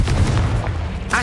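A Confringo blasting spell explodes in Hogwarts Legacy, a loud, dense booming roar filling the whole moment, rumbling heavily low with a crackling burst near the end.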